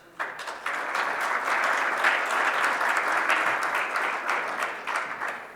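Audience at a cybersecurity summit breaks into sustained applause welcoming a speaker, a dense steady clapping that swells and holds for several seconds, with a brief spoken welcome at the start.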